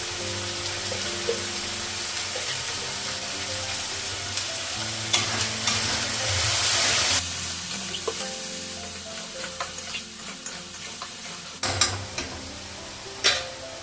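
Meat seasoned with cumin powder and turmeric sizzles steadily in a pan while being stirred, with scraping and clattering strokes that grow sharper and more frequent toward the end; no one speaks.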